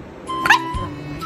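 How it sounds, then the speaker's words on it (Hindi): A dog gives a single short, high yelp-like bark close by, standing out briefly above a quiet, murmuring background. "भौंकेगी, मुझे भौंकेगी तू?"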